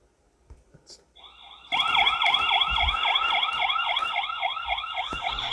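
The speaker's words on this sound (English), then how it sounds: "at night, you can see that the siren turns on and it's not even in its loudest setting" After a few faint clicks, a solar wireless security camera's loud electronic siren starts abruptly at night, below its loudest setting, wailing in rapid repeating sweeps with a steady tone layered on top, close and continuous.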